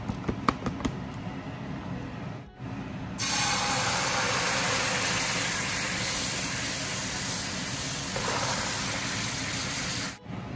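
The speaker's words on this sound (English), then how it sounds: "this is gonna be saute in the coconut milk" Sauteing in coconut milk in a pan while cooking catfish kow poon: a steady, loud broadband sizzle and hiss that starts abruptly after a few faint clicks and runs without a break, with no voices over it.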